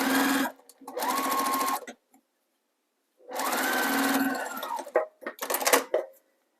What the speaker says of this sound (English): And I will just finger press that seam open and sew it right on there.